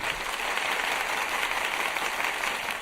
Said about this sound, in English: I have like a soundboard over here that I can play. Like one of them says applause. I'm gonna play this.